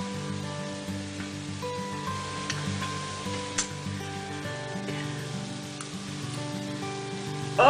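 Cabbage, tempeh bacon, potato and mushroom sizzle steadily in a frying pan, a soft continuous crackle under a background hum, with a louder burst at the very end.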